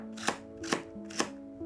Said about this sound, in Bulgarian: първо я срязвам на лентички и след това на съвсем малки копчета